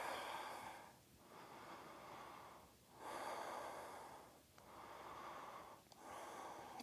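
Deep, slow breaths drawn during an abdominal toning stretch, four or five long airy inhale-exhale cycles in an even rhythm, close and quiet with no talking.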